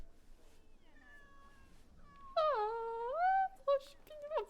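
A cat in the video game Assassin's Creed Shadows meows close up: a few soft, faint mews, then a loud, drawn-out meow that rises and falls, followed by a short, sharper one.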